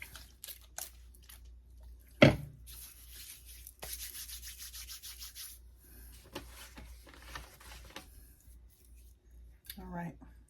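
Tarot cards are laid down on a table, giving soft rubs and slides with one sharp slap, then a run of quiet shuffling and brushing sounds close by.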